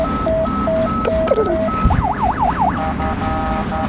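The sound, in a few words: police car siren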